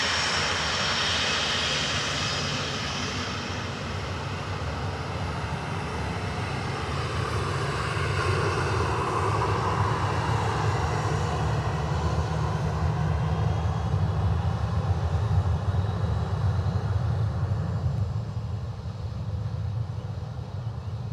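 An Aer Lingus A320 airliner landing at Dublin Airport: a loud, sustained jet engine roar holding steady throughout, with broadband rumble and a hissing upper whine, no talk.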